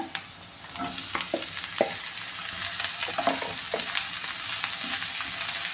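Ivy gourd tossed into a pan of sautéed onion and green chillies in oil, a steady sizzle punctuated by sharp scraping clicks of stirring, close and fairly loud.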